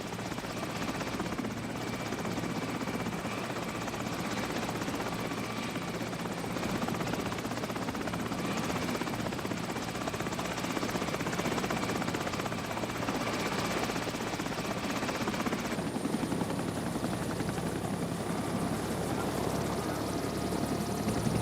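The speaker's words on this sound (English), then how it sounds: "Get to the chopper!" A helicopter in a scene from The Sopranos, a continuous rotor and engine roar sustained for about twenty seconds at even loudness, with no talking over it.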